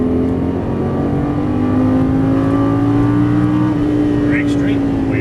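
A Lamborghini Gallardo LP550-2 engine pulls hard under full throttle on a racing track, a loud steady close-up drone whose pitch climbs slowly throughout, with faint voices in the background.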